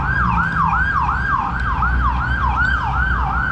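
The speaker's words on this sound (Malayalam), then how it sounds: "ആംബുലൻസ് തോന്നുന്നു." Ambulance siren wailing in a rapid rising-and-falling yelp, loud and fairly near over traffic rumble, heard while walking under trees in a park-like area, no talk.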